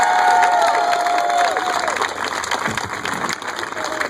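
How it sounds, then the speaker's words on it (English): A crowd at a campaign event applauds and cheers for a senator, loud clapping mixed with shouts and whoops while a voice carries over the noise. "we want to give him a big round of applause"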